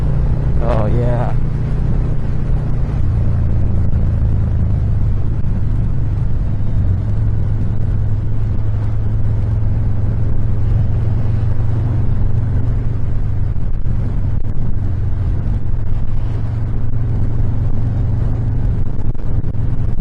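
A Harley-Davidson Softail Fat Bob with repacked mufflers rumbles loudly while riding and accelerating through a long sweeping turn, its deep exhaust drone steady throughout and mixed with wind noise.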